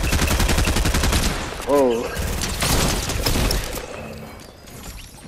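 Gunfire in a shooter video game: loud, dense rapid shots up close, then more scattered bursts fading off, with a brief voiced exclamation in the middle.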